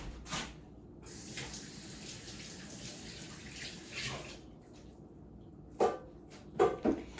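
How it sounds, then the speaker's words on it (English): A running kitchen tap pours water while hands are washed, a steady close splash with a few louder splashes and knocks near the end, and no talking. "Wash my hands again."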